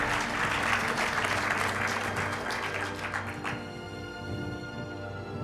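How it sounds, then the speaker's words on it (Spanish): Audience at an education seminar applauding a teacher, a full round of clapping that fades after about three seconds, leaving a low hum. "yo pido un aplauso para él por tanto lo que ha aportado el maestro Mora"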